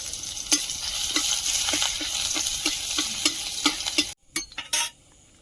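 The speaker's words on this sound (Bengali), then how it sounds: "কড়াইতে তেল দিয়ে দিচ্ছি তেলে একটু থেঁতো করা রসুন দিয়ে দিচ্ছি" Steady hiss of crushed garlic frying in hot oil in a wok with repeated light scraping taps, then the sizzle cuts out leaving a few brief clatters.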